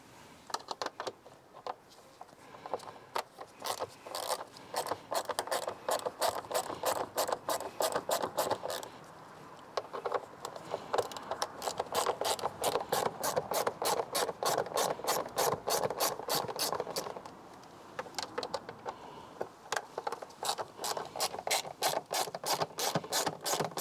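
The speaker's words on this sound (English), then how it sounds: "we're going to take off these T25 Torx bolts" A ratchet works T25 Torx bolts loose on a Mini Cooper S in rapid, steady clicking runs that stop briefly and resume several times, close and fairly loud, with no talk.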